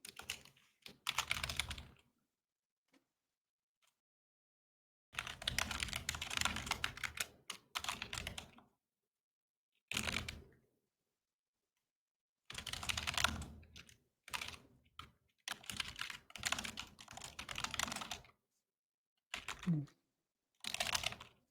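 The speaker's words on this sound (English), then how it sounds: "Kevin's just typing up an announcement real quick." Someone types out an announcement on a computer keyboard in close, rapid bursts of key clicks, with pauses of near-silence between runs and no talking.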